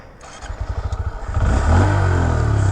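A 2022 Honda Grom motorcycle engine cranks with rhythmic chugs, then catches and revs up into a loud, steady roar from a stock exhaust, close by.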